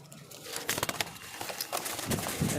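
Rampuri pigeons coo and murmur in a steady low rumble, with several overlapping soft calls and faint fluttering close by.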